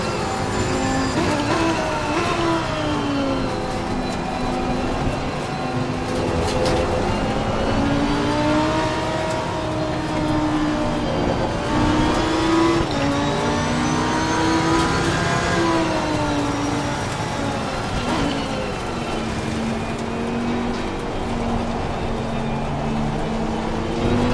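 A race car engine roars in Assetto Corsa Competizione, continuous loud revving with rising and falling pitch through gear changes and cornering, other cars' engines blending in, no voices over it.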